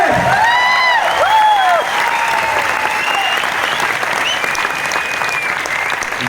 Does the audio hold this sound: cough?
no